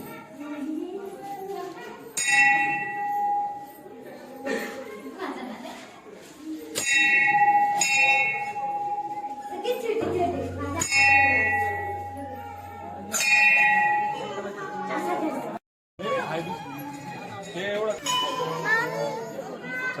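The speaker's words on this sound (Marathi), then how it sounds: "फक्त घंटी वाजवायला पाहिजे" A hand bell rings at a temple housing Ram, Lakshman and Sita idols during a Mahashivratri fair. Its clear tone sounds in several separate bursts amid steady chatter and children's voices.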